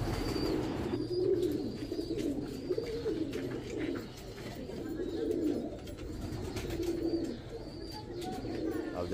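Several dark-necked Kalsera pigeons coo steadily in a loft, soft repeated calls layered over one another with occasional chirps, near and continuous throughout.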